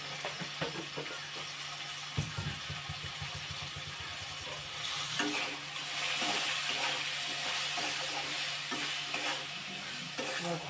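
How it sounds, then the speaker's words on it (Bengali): Chili powder and other spices are sautéed in a pan and stirred vigorously, with rhythmic scraping strokes over a continuous sizzle that grows louder and hissier midway. "ভালো করে মশলাটা কষে নিতে হবে।"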